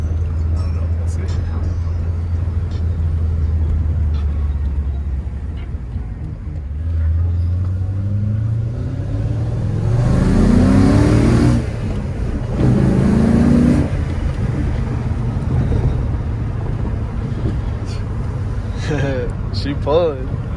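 A car engine drones at low revs while driving, then swells and rises in pitch under acceleration before easing back, with a person talking over it at moments.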